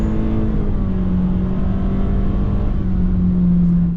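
The engine of a 2023 Honda HR-V accelerates with a CVT, holding a steady, droning whine close up that rises slightly in pitch, with no talk.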